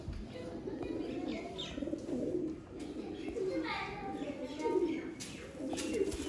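Pigeons cooing in soft, repeated low calls, with occasional chirps mixed in, fairly close and steady over faint background noise and some talk.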